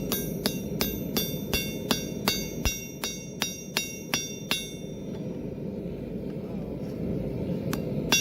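Hammer strikes ring out on metal over an anvil while forging a bottle opener, a steady series of about twelve sharp, bright blows at a quick even rhythm, then the hammering stops and a low background rumble continues.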